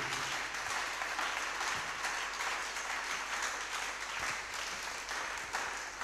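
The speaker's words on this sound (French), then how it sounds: "Je veux entendre un tonnerre d'applaudissements de votre part." Church congregation clapping together in sustained applause, a fairly faint, even wash of many hands with no talking.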